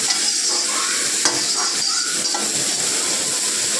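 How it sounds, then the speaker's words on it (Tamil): Onions sautéing in a hot pan, a steady close sizzle with occasional stirring scrapes running through the whole stretch, no talk. "வெங்காயம் நல்லா வதங்கிட்டு நம்ம உப்பு போட்டுக்கலாம்."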